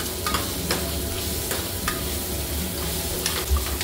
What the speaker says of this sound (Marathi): कुकरमध्ये डायरेक्ट फोडणी दिल्यामुळे कांदा आपल्याला सोनेरी गोल्डन होईपर्यंत छान तेलात परतून घ्यायचं आहे।